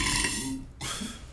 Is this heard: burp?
yes